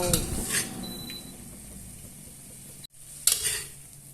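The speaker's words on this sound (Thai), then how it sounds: "ผัดให้ส่วนผสมทุกอย่างเข้ากันอีกครั้ง" Bamboo shoots and minced pork stir-fried with curry paste in a pan, a steady sizzle broken by a few scraping stirs and a short clatter near the end.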